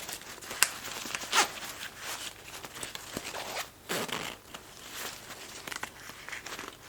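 The zipper on a Mountain Hardwear Phantom Alpine sleeping bag is worked close up, giving quick rasping zip runs with crinkly fabric rustles and handling noise in between.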